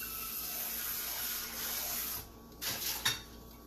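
Running water rinses out a cooking pot at a sink, a steady stream hissing for a couple of seconds, then a few louder splashes and clanks as the pot is moved under the tap.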